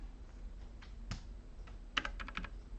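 Light, scattered taps on a computer keyboard during CSS coding, a few isolated key presses followed by a quick cluster of clicks, quiet and close with no voice.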